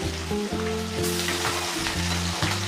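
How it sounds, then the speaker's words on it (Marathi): Green chilies frying in hot oil, a loud, continuous close sizzle with bright crackling spatter and a low humming tone pulsing underneath, no voices. "मिरची तळून घेऊयात मिरची सर्वात लास्टला तळायची"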